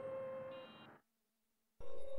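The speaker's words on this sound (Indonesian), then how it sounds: "Handphonenya terus berdering menerima telepon dari seseorang." A mobile phone's ringtone plays in two bursts separated by a short near-silent pause, a bright electronic tone with no voices over it.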